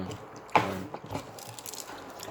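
Someone bites into a double cheeseburger with a single soft, squishy bite followed by quiet, close chewing.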